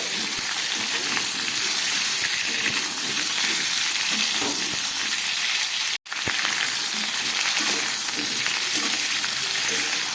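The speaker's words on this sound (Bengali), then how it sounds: "একটু ঝিঙে আছে আর কয়েক টুকরো পেঁপে আছে সব দিয়ে আবার একটু ভেজে নেব" Pieces of ridge gourd and papaya fry in a pan with other vegetables, giving a continuous close, bright sizzle that cuts out for an instant midway and then resumes unchanged.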